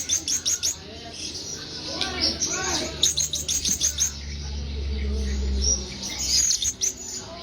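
Serindit hanging parrots give rapid bursts of high, thin chirps in repeated clusters, fairly close, over a low steady background hum and faint murmur.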